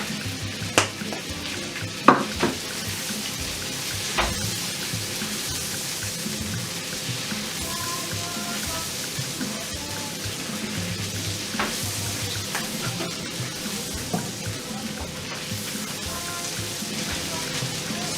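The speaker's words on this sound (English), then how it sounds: "the king prawns is cooking nicely, and you can smell it with the butter and the garlic" King prawns frying in butter and garlic, a soft steady sizzle with occasional clinks of utensil against pan, fairly quiet and sustained throughout.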